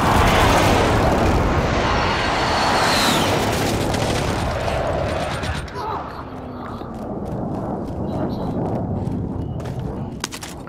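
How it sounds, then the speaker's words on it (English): Precision airstrike explosions in Call of Duty: Modern Warfare, a long loud rumbling blast that fills the opening seconds and slowly decays into debris crackle and scattered pops, with faint voices underneath. "Be advised, friendly precision airstrike inbound"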